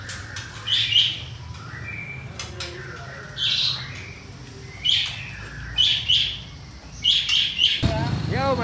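Male white-rumped shamas, murai batu, give repeated bright high chirps and short whistled phrases in a busy bird shop, with a steady background hum and a low rumble of traffic.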